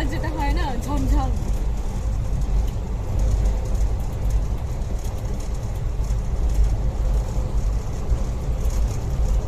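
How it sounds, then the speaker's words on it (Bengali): Steady, dense rumble and rattle from an Indian Rail express, the 13153 Gour Express running from Sealdah to Malda, heard from inside a first-class coupe; a voice speaks briefly at the start over the continuous noise. "ট্রেনটা বেশ জোরে দৌড়চ্ছে"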